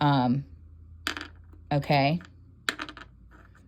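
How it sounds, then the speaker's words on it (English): A small piece of moldavite shaped like a pine tree is dropped onto a hard surface twice, each fall giving a sharp, bright, coin-like clink with a short ringing tail. A person speaks briefly before and between the drops. "Go drop all your Moldavite from your collection and see if you have one that sounds like this."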